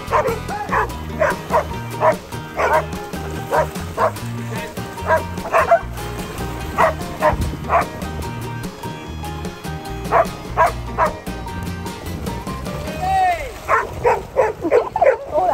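Several dogs bark repeatedly while playing ball and a flirt pole, with loud close barks and yips in irregular bursts and a few whimpers, as people talk in the background.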